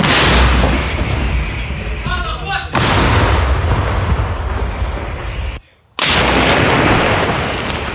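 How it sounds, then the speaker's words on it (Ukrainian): A loud Ukrainian army artillery gun fires in combat near Kostiantynivka with a deep, booming blast that rolls and reverberates, followed by a second heavy roar after a short drop-out. "Гармата постріл!"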